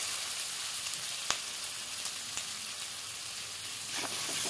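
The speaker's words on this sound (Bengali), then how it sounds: "এবার এই মশলাটা এখানে দিয়ে দেবো। দিয়ে একটু ভালো করে কষিয়ে নেব।" A masala spice paste fries in a pan for an egg biryani, a steady close hiss and sizzle with a few faint clicks of a stirring utensil.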